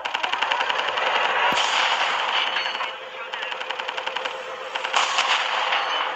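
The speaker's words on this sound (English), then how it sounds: "I'm shooting. I overheated the gun." Rapid automatic gunfire in Call of Duty Mobile battle royale, long bursts of fast evenly spaced shots with a brief pause midway, loud and close.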